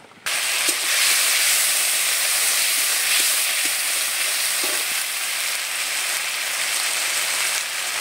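Ginger and garlic paste hits hot oil already seasoned with dried red chilies and bay leaves, bursting into a loud, steady sizzle and hiss that continues with a few soft clicks of stirring, no voices.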